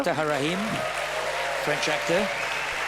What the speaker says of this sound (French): Merci donc de les applaudir chaleureusement.